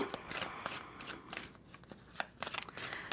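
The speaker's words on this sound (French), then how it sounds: "Je vais rajouter une carte sur le féminin." Tarot cards are shuffled, drawn and laid down, with soft papery riffles and crisp flicks and taps of cards close by at low level in an irregular sequence.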